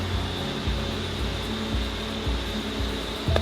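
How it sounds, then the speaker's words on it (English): Steady loud whooshing roar of a vacuum blowing debris out of a boat, running continuously, with faint rhythmic thumps underneath and no voices. "That vacuum blows all the stuff right out."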